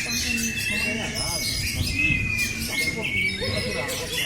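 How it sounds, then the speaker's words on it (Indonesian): Songbirds at a bird-singing contest, white-rumped shamas among them, chirp and squawk in busy overlapping calls and whistles. A crowd murmurs and voices chatter underneath. "kategori kicau mania untuk burung murai batu"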